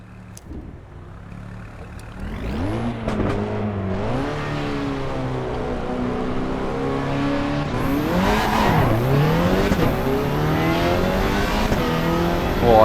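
An Alpine 110 race car in Assetto Corsa EVO, its engine revving hard and climbing through gears in a loud, continuous drone with rising and falling pitch sweeps, heard alone.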